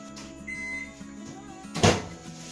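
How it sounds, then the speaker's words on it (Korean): A microwave oven hums steadily while warming a solid front tire for a Ninebot ES2 electric scooter, with a faint tonal whine, light clicks, and a sharp knock or door clunk near the end. "전자레인지에 살짝 구워야겠어요."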